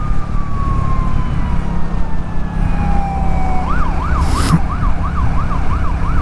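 A police siren passes near a rider on an ADV motorcycle, starting as a falling wail and then switching to a rapid rising-and-falling yelp, loud over steady traffic and road noise.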